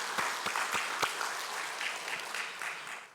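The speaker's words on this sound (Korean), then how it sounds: "보라씨님께 큰 영광의 박수 한번 올려드릴까요?" Church congregation applauding on Easter morning, a steady broadband patter of many hands with a few sharper claps standing out near the start, moderately close and sustained for the whole stretch without talk.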